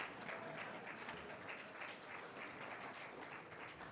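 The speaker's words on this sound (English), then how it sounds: "Applaud for the 100th anniversary." Sustained applause from an audience at a chamber of commerce awards gala marking the chamber's 100th anniversary, steady, dense clapping that holds at an even level throughout without pauses.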